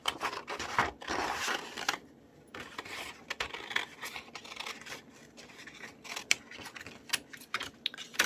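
Scissors cutting out a paper tag, giving quiet close snips and rustling paper in irregular bursts with brief pauses, no voices.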